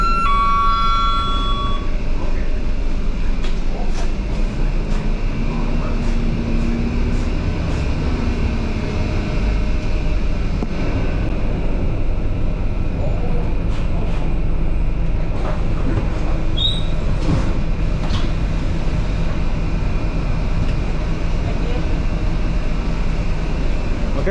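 A train rumbles past close by in Penang, Malaysia, in a long, steady roar, with faint metallic wheel squeals and tonal whines rising over the heavy din.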